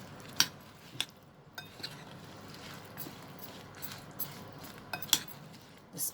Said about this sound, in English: We'll add the green chilies to this. And now we will mix with the spices. Mix it nicely.